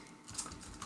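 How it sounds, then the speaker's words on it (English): Keys tapped on a computer keyboard one character at a time while editing HTML in a text editor, heard as a brief stretch of soft, continuous clicking at close range. "now we're going to be typing one character at a time"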